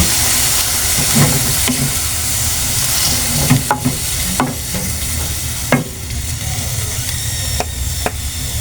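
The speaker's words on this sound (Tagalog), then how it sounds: "Lagyan natin ng konting sabaw." Sliced bitter gourd (ampalaya) sizzles loudly in a pan as a little broth is poured in, giving a strong steamy hiss with repeated scraping stirs and knocks of a utensil against the pan.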